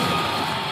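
An arena crowd at a Mobile Legends esports playoff match roars and shouts continuously, a dense, loud wall of cheering voices with no pauses.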